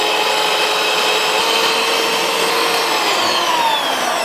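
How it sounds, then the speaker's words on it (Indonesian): An electric mixer whipping egg whites at high speed, a steady loud whirring hum that holds constant throughout with no talking. "Putih telurnya mau di mixer kecepatan tinggi, bertahap aja ya, rendah, sedang, terus tinggi sampai dia putih pucat mengkilat ya"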